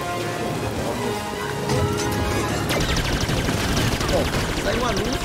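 Rapid bursts of Star Wars Jedi video game gunfire crackle over a busy, layered background of game sound effects and tones, with dense shots through the latter half.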